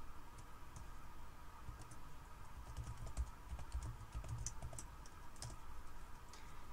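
Steady typing on a computer keyboard, a continuous run of close, clicky keystrokes with no voice.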